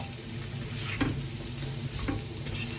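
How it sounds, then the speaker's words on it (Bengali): Onions frying in a pan until browning, for a spicy beef tripe dish, a steady close sizzle with a few stirring scrapes and clinks, no voices. "দেখো আমি পেঁয়াজটা একটু ওয়েট করবো, পেঁয়াজটা একটু বাদামি কালার হইবার লাগে।"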